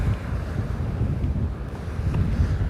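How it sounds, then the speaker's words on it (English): Ocean waves washing against the rocky shore at Sunset Cliffs in San Diego, a steady loud roar of surf mixed with heavy wind buffeting the microphone, with no voices. "All you hear is the crashing of the waves over and over."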